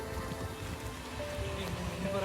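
Steady rain pours down on a road in Sri Lanka, a dense constant patter with faint voices mixed in underneath.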